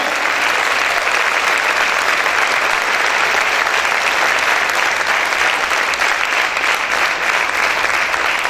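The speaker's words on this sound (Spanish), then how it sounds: "Aplaude, aplaude fuerte a tu Dios en esta hora." A church congregation claps vigorously and continuously, a thick, uniform roar of many hands at close range with no break.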